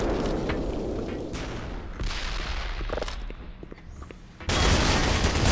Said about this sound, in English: it's like the artillery gun